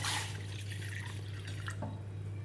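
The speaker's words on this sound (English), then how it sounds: "Now into the vessel I am adding 1 glass of water in this." A glass of water is poured into a cooking vessel for making kashayam, a close, steady splashing pour with trickles near the end, heard alone without speech.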